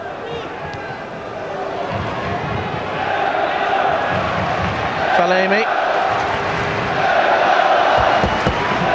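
A 42,800-strong football stadium crowd at Steaua București vs Liverpool roars and cheers in a continuous swelling wash, with a commentator talking over it and brief whistle-like tones cutting through.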